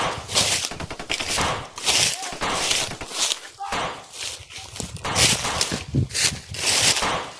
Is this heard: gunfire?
yes